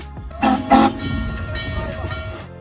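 A train whistle sounds in two loud blasts, then holds a long fading tone over the rumble of the moving train.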